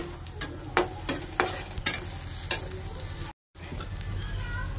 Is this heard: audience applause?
no